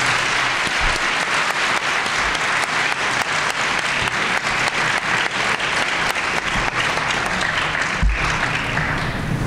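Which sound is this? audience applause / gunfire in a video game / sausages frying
audience applause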